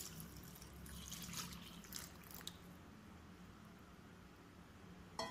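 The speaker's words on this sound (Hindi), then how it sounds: "देखिए इसमें पानी डाल देंगे," Water is poured into a pot over leftover lemon peels to make a homemade kitchen cleaner, giving a steady, faint trickling pour that runs the whole time with no talking.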